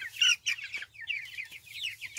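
A flock of 33 three-week-old farm chickens, not yet fully feathered, fill the air with constant overlapping high peeps and soft clucks, close and moderately loud with no one talking.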